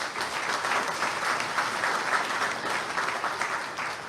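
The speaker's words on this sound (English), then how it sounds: "we owe them a round of applause" Conference audience at an international energy expo gives a round of applause for the organizers, a full, even patter of many hands clapping at steady loudness for a few seconds with no talk.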